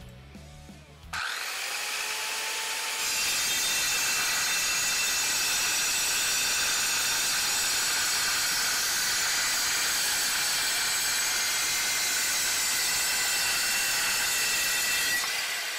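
An Evolution 7-1/4 inch circular saw cuts 1/4 inch diamond plate steel: a short motor start, then a loud, bright, sustained metallic screech and hiss that holds steady to the end, close by.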